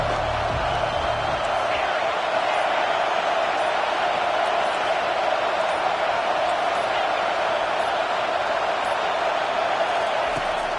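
A football video game stadium crowd produces a continuous, dense roar of massed voices. The loud, even wash holds throughout with no breaks.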